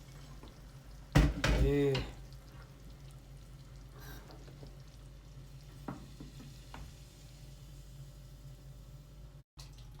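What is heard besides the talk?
tadka tempering poured onto kadhi, sizzling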